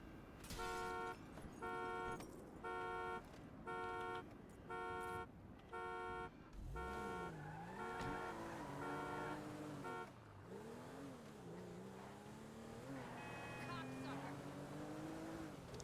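A BMW in a video game sounds a rhythmic series of repeated horn-like electronic tones, then an engine revs and rises and falls in pitch, with a voice speaking over parts of it.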